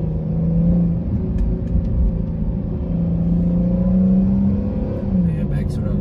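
A new Cobra car, likely a Dodge Charger, rumbles and revs in traffic with a deep, loud, steady engine drone that swells in pitch a couple of times, while someone talks over it.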